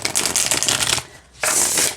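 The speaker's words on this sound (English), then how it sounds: "it's very satisfying to shuffle" A tarot card deck is shuffled close up in two loud riffling bursts, with a brief quiet pause between them.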